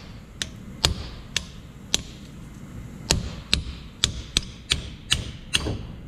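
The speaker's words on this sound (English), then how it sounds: "hammer and punch like this. Punch like this and hammer to separate this one on the" Sharp metallic hammer strikes on a punch while separating parts of a 2005 Toyota Tundra front differential, about a dozen irregular close, loud clanks spaced through the stretch over a low workshop background.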